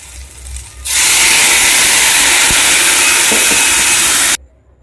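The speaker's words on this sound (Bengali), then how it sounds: "এবারে আমি তেঁতুল জল দিয়ে দিচ্ছি।" Tamarind water poured into a hot pan of turmeric-and-salt-fried pumpkin sets off a sudden loud, steady sizzling hiss that lasts a few seconds, then cuts off.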